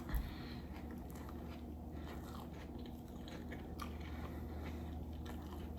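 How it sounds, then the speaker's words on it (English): A bite into food followed by quiet chewing, soft close crunching and mouth sounds over a low, steady indoor background hum. "I'm gonna take a bite of this"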